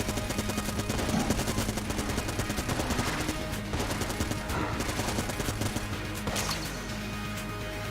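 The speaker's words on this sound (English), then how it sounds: "Forgot I bought scatter shot right before coming in here." Scatter shot gun firing in Enter the Gungeon, a rapid, steady stream of crisp repeated shots with occasional impacts and bursts, loud and nearly continuous.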